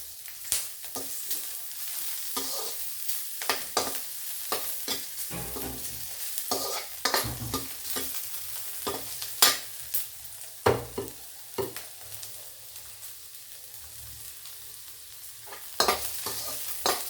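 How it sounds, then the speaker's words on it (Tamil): Chillies frying in hot oil in a pan while making pulicha keerai rice, a steady close sizzle broken by repeated stirring scrapes and crackles, with no voices. "கொஞ்சம் நல்லா பொரியுது."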